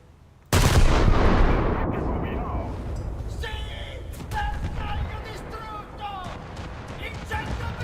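Warship guns firing in a naval battle game: one loud, heavy blast opens, then a lingering rumble with scattered smaller bangs and beeps while a voice talks over it.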